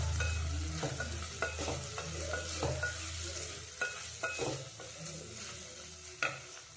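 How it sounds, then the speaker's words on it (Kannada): Coriander powder, turmeric, salt and coconut powder are stirred into a frying tomato mixture in a pan for a tondekayi dish: a soft, steady sizzle broken by repeated scraping clinks of a spoon, fairly quiet and close, with no voices. "ಇವಾಗ ನೋಡಿ ನಾನು ಕಲಿಸ್ಕೊತಾ ಇದ್ದೀನಿ"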